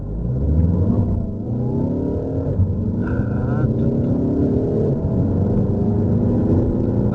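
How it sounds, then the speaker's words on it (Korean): Volkswagen Passat GT diesel, 190 hp, pulling away hard from a launch with quick double-clutch gear shifts: a steady engine drone that rises and drops at each shift, heard from inside the car under someone talking. "더블 클러치가 기어 변속을 빠르게 하는 게 느껴집니다."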